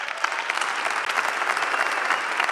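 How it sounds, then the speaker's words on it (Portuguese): A live comedy show audience claps to welcome a guest onto the stage. Brisk, even applause that stays fairly loud and sustained without speech. "E hoje o convidado é, e peço um enorme aplauso, para Catarina Matos."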